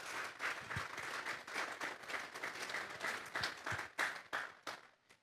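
A church congregation applauds steadily, the claps blending into a dense, continuous wash of mixed loudness with a few sharper individual claps, fading at the very end.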